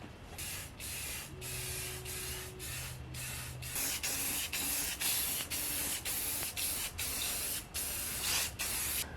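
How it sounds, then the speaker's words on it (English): White gloss enamel spray paint hisses onto a 3D printed helmet in steady close bursts, with short pauses between passes and no talking. "Just gonna coat the whole thing in a nice even coat of white gloss enamel."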